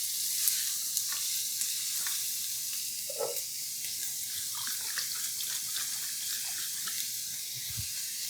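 Onions, carrots and celery sweat in a soup pot for pasta e fagioli, a continuous soft sizzle with faint occasional clicks of a utensil, no talking.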